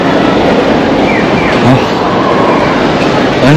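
Train noise at Ueno station in Tokyo, a steady loud rumble with a faint squeal, heard amid a busy station crowd with people talking.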